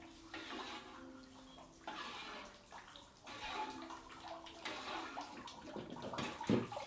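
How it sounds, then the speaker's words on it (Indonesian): Water poured by the scoop into a batagor dough mixture, a splashing, gurgling pour in several bursts with short pauses, fairly quiet and close. "ini kita tambahkan air. Airnya nanti ukurannya 1 gayung setengah."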